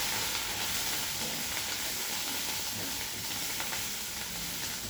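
Onion, garlic and ginger paste sizzles with rithe fish in a pan, a steady, close, loud frying hiss that continues without a break and with no talking.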